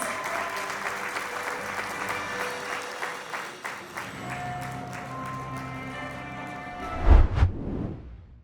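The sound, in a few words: audience applause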